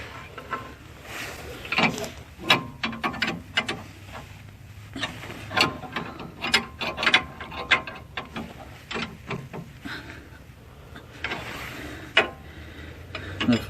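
A wrench ratchets in short clicking bursts while bolts are tightened on a Kubota BX25D tractor with a backhoe and 3-point hitch, with irregular metallic ticks and clanks close by and occasional quiet talk between them.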